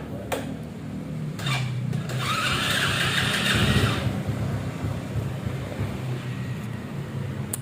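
A Honda Supra motorcycle engine is started after a light restoration: a few short mechanical clicks and cranking bursts come first, then the engine catches and runs with a rougher, louder stretch before settling into a steady idle, nearby, with no voices.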